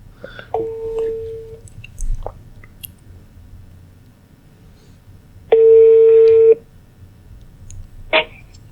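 Telephone tones during a call: a short tone, a few faint clicks, then a louder sustained tone burst and a final brief beep, separated by near silence.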